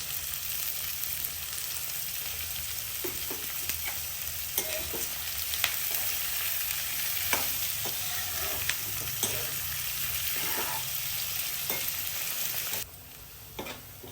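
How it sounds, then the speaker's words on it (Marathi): Chopped onion frying in a pan with a pinch of salt for a Maharashtrian poppy-seed curry, giving a steady close sizzle with scattered stirring scrapes and clicks throughout, then quieter near the end. "कांदा गुलाबी रंगापर्यंत परतून झाला आहे."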